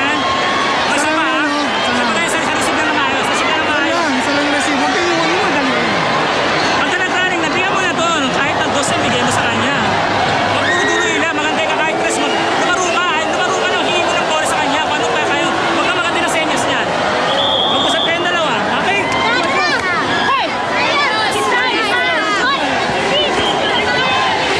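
A big FEU crowd roars at a UAAP championship basketball game, a dense, loud, continuous wall of cheering and hubbub throughout, with a commentator talking over it.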